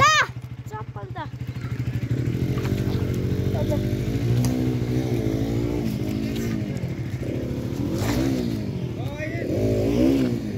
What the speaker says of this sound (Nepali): बाइक निकाल्ने कार्यक्रम भइरहेछ